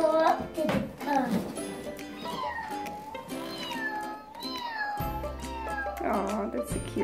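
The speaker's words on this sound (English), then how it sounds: "Oh, that's a cute little kitty." A cat meows in drawn-out, wavering calls, close and fairly loud, amid someone speaking and the clatter of toys.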